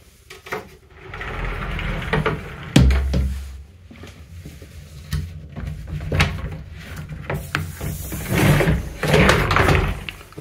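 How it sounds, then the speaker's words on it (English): A stiff built-in wardrobe door in a hotel room in Arenal, Majorca, is worked open, giving several sharp knocks, a low thud and scraping creaks spread over about ten seconds. "A stiff door."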